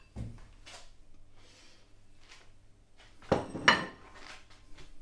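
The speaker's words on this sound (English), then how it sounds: "Let me stick that one in the bowl." A potato dropped into a bowl, two close knocking thuds in quick succession after an earlier faint clatter, in a quiet room.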